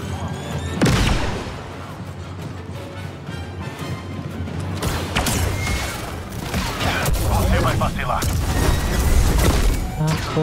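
Gunfire and blasts in the Star Wars Jedi: Survivor video game, a sudden loud burst followed by rapid crackling shots, booms and crashes, with a voice speaking over the action.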